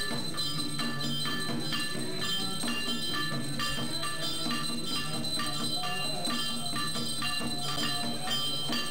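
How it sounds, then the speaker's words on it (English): Drum and gong play during a Hindu aarti prayer to Lord Shiva, a dense, continuous metallic ringing with steady rhythmic beats, loud and unbroken throughout with no talking. "You can see the drum and the gong being played in the background."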